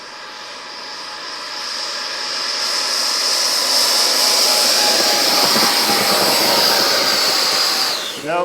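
A radio-controlled B-58 Hustler model jet spools up for a takeoff attempt, its loud whining electric ducted-fan roar swelling steadily for several seconds before cutting off abruptly at the end.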